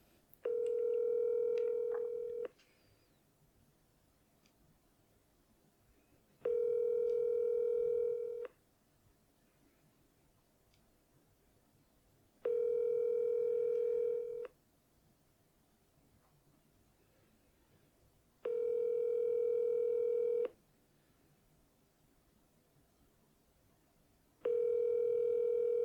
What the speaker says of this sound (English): let's call one more time